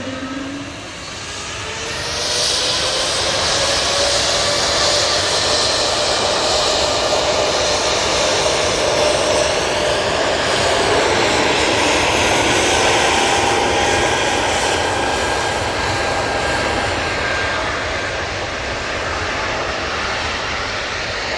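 A Swiss airliner departs for Zurich, its jet engines building quickly from a low hum into a loud, sustained roar with a whining tone that stays strong before easing slightly near the end.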